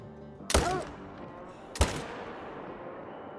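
Two loud, sharp rifle shots about a second apart, each ringing out and decaying in an open hunting landscape in theHunter: Call of the Wild, aimed at a lion, with no talking.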